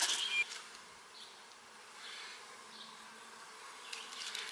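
Honey bees buzzing around an open hive frame during a hive inspection: a faint, steady hum with a brief louder burst at the start and soft swells as bees pass near.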